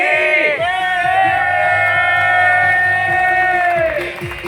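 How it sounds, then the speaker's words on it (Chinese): A crowd cheers, whoops and claps loudly right after a countdown at a Chinese New Year light-up ceremony on a street in Sibu, with a long sustained swell of voices. "掌声响起 ！"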